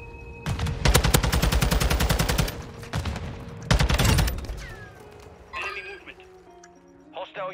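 Call of Duty gunfire: two loud bursts of rapid automatic shots, the first about two seconds long and the second shorter, followed by quieter in-game effects and some faint voices.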